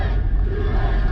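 A large crowd at a political rally, a dense, continuous roar of many voices cheering, loud and close with no individual words standing out.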